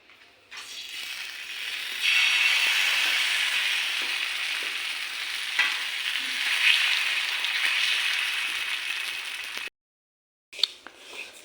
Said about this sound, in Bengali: এদিকে পাটি সপ্তাহ কোপ্তাও ভাজা শুরু হয়ে গেছে